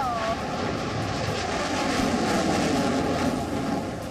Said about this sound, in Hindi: हवा में उड़ान भरने के लिए रनवे पर दौड़ता ये विमान,